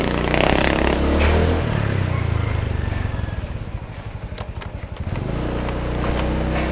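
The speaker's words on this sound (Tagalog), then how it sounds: "Nagloloko pa rin yung motor natin na hagok." A Honda Beat motorcycle engine runs close by with a faulty knocking note, droning steadily and then dropping into a rapid, uneven pulsing chug before picking back up, with no talking.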